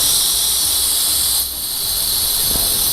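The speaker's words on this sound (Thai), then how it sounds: "เปิดนิดนึงนะเดี๋ยวน้ำมันมันจะค่อยๆถูกดูดออกมานะครับ" A pneumatic brake bleeder sucks old brake fluid out through a slightly opened bleed valve, giving a loud, steady air hiss that dips briefly midway and then resumes at full strength.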